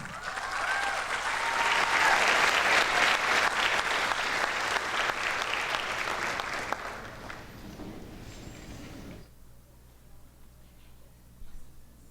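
A crowd at a high school senior awards night applauds a scholarship winner with sustained clapping that gradually thins and fades, then drops to quiet room tone.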